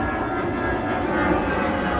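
A fixed-wing airplane passes overhead above open farmland, a steady broad engine roar that holds at an even loudness throughout with faint voices mixed in underneath.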